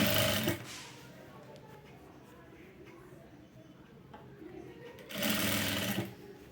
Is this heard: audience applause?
no